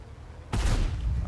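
A tank cannon fires in World of Tanks: one sudden loud boom cuts in after a quiet moment, followed by a rumbling decay that lingers to the end.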